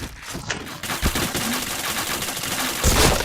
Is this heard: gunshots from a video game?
yes